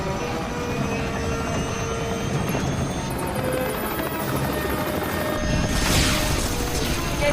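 A helicopter with a failing rotor in a movie scene roars loudly and steadily throughout, a harsh broadband rotor and engine wash with a brighter whine swelling near the end.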